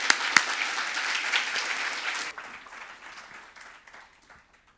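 An audience at a statistics data standards conference applauds, loud clapping at first that thins and fades away over a few seconds.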